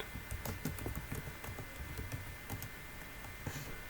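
Commands typed on a computer keyboard: quick, irregular clicking keystrokes, close and fairly quiet over a steady background hum.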